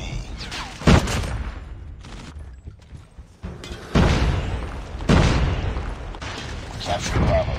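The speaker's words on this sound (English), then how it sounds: "Friendly predator missile." A video game predator missile strike sets off heavy booming explosions, with a sharp blast followed by several rumbling detonations and a busy spread of gunfire and battle noise.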